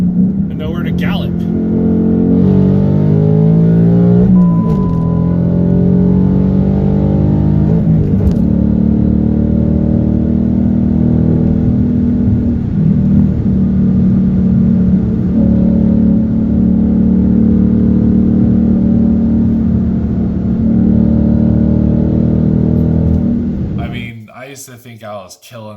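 A 2018 Mustang GT engine accelerates hard on a road, a loud, deep rumbling roar that climbs through the gears for over twenty seconds before cutting off abruptly.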